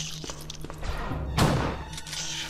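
A single loud, booming shot bursts out in the middle of Resident Evil Director's Cut's low ambient hum in a cellar vault, then fades back into the steady background drone.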